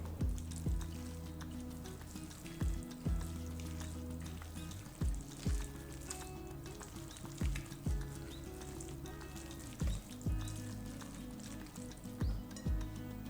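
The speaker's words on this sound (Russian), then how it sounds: "К остывшей капусте добавьте взбитые яйца и перемешайте." Beaten eggs are mixed into cooled chopped cabbage, and a spoon scrapes and slaps through the wet mixture in a steady rhythm of short strokes over a low background hiss.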